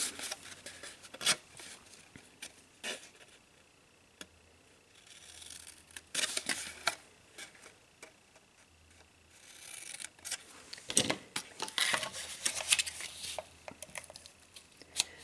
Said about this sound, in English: we're just going to cut up, meeting that horizontal score line on both ends